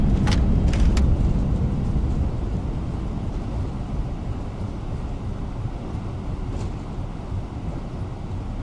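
An A321LR airliner under maximum braking on the runway in a flight simulator: a steady, loud rumbling roar of rollout noise with a few brief sharp clicks early on, slowly easing over the run.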